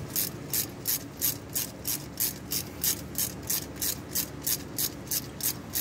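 A ratchet wrench turning out the oil pan bolts on a car's automatic transmission, giving a steady series of about seventeen evenly spaced rapid clicking bursts, close and moderately loud, with no talk.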